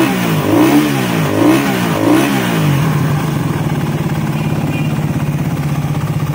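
A customer's motorcycle engine being checked during a repair for oil consumption without smoke, revving in three quick rising bursts before settling into a steady, loud idle, close by with no talk.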